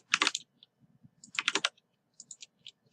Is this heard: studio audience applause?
no